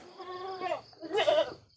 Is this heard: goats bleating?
yes